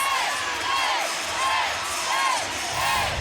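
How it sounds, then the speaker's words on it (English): A large crowd at a college gymnastics meet between Pittsburgh and Clemson cheers loudly for stuck dismounts, sustained roaring applause and whoops that swell in repeated waves, with no speech on top. "Everyone is cheering for those stuck dismounts."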